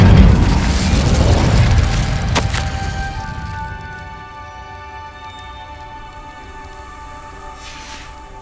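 A fire spell cast in Hogwarts Legacy: a loud whooshing, crackling burst for about three seconds with a sharp crack near the middle, then fading into a quiet sustained tonal hum of ambient music.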